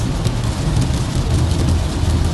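Heavy rain falls at night at Vancouver airport, a dense, loud, continuous hiss and patter with a low rumble underneath and no voices.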